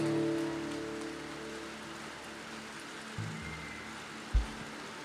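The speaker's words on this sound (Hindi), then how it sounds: "बारिश हो रही है, अब कोई बाहर नहीं जा सकता" Steady rain hisses evenly on a surface, with a low hum underneath and a couple of brief thumps.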